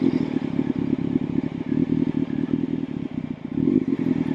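A motorcycle putters along at low speed in a slow-riding skills drill, its engine idling and feathering on the clutch with light throttle, a steady close rumble with faint clatter and no talk.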